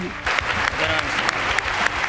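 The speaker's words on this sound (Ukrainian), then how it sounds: "Вони українського президента зустріли оплесками і вигуками Слава Україні." Loud, sustained applause and cheering fill the chamber of the US Congress as members greet the Ukrainian president, with clapping swelling in steady waves from start to finish.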